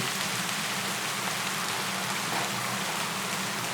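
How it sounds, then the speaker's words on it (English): Steady rain patters on a soldier's helmet in a war camp, a dense, even hiss of falling drops that carries on unbroken with no voices. "The rain cascades down his helmet, tracing paths across his weathered face before disappearing into his soaked collar."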